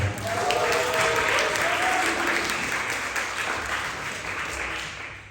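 A school audience gives steady, full applause to welcome a 12th-grade student about to recite a poem at a literature day event, sustained clapping throughout that eases slightly toward the end.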